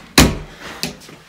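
A bathroom door in a student room at Twerton Mill closes with a sharp, close thud, followed by a softer second knock as it settles against the frame.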